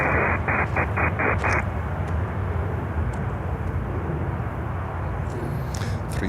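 Virgin Atlantic airliner arriving from London Heathrow, a loud continuous broadband jet roar close by that fills the whole stretch, with a brief tonal beeping near the start.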